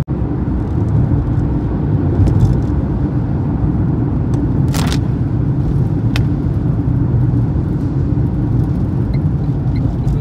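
Heavy Saturday road traffic inside the Khandala tunnel makes a loud, constant low roar of engines and tyres, echoing and unbroken, with one brief sharper tone midway.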